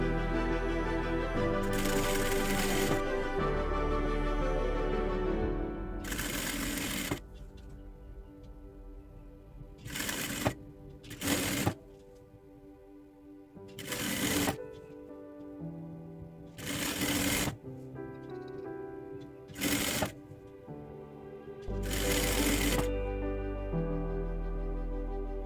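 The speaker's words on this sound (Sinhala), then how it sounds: "ඉදිරිපස අනිත් පළුවත් ඒ විදිහටම අපි නවා මසා ගමු." A sewing machine stitches a folded front panel of a dress in about eight short, loud bursts of rapid whirring, separated by brief quiet pauses, with no talking.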